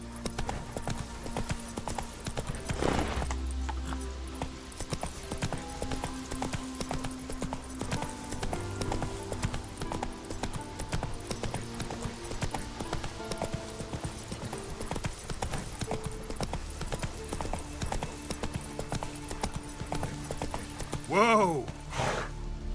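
Steady clip-clop of a galloping horse in The Witcher 3 runs throughout, close and rhythmic, with game music, a rider's shouts and a loud horse whinny near the end.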